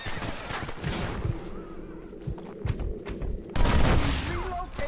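Gunfire in the Western video game Red Dead Redemption, several sharp shots and a burst of rapid fire over background game sound and hoofbeats, with a louder cluster of shots near the end.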